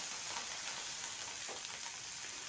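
A dense, loud sizzle of curry leaves crackling in hot tempering oil for sambar, spitting and hissing continuously up close with no voices.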